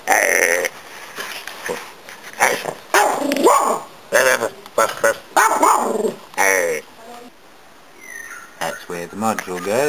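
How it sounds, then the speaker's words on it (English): Dog barking behind a backyard fence, a string of loud, sharp barks in bursts with short gaps, close by, alongside some clattering and a person talking. "There's a doggy on the other side of my fence."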